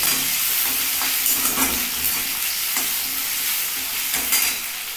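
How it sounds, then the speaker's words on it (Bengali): Chopped ginger and two green chilies frying in oil over a low flame: a dense, steady sizzle runs throughout, broken by soft periodic taps of a stirring spoon against the pan. "আর দিচ্ছি 2টো কাঁচা লঙ্কা। কোনো মশলা এখনো দিইনি। এবার হালকা ফ্লেমে এগুলো ভেজে নিতে হবে।"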